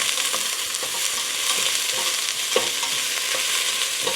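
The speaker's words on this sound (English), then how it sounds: "I'm just gonna mix these around for, I don't know, 2-3 minutes until the onion starts to get to be translucent" Onions frying with already-cooked meat in rendered fat, stirred around the pan: a loud, dense, close sizzle with soft scraping strokes running throughout, no voices.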